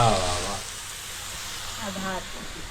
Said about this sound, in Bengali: চিলি চিকেনের পকোড়া ভাজা হচ্ছে এখন